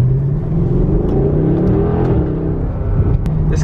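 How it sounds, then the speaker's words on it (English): A sports car engine starting and running loud and close, with a steady throaty rumble and rising revs throughout. "I'll give you a little start up again, third start up."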